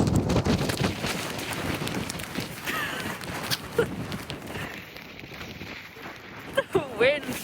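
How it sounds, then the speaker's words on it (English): Strong wind buffets a microphone outdoors during a solo hike near a pile of rocks, a steady roaring rumble with gusts, footsteps and rustling underneath and brief bits of a voice toward the end. "Wind, man."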